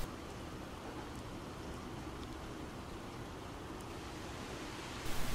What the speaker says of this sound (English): Will this rain ever stop?